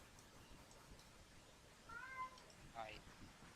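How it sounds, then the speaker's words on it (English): A house cat meows twice, faint and fairly close, in a quiet indoor room with soft background noise. "There are two cats in this house, and one of them is very noisy."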